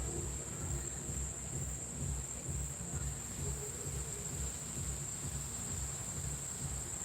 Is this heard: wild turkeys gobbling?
no